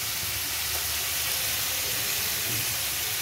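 Shrimp frying in a pan for a fig and banana-flower curry, a steady soft sizzle and hiss running without a break, fairly faint, with no talk over it.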